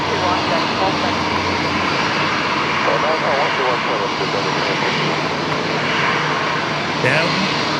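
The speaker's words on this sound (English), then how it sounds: "The A330-200s coming in from Auckland." A Qantas Airbus A330-200 arriving from Auckland produces a steady jet engine rumble throughout, accompanied by a faint voice and radio chatter in the background.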